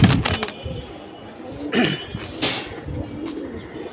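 Pigeons coo close by in a loft, low soft rolling calls repeating a few times, mixed with brief scuffles, chirps and light flapping over four seconds.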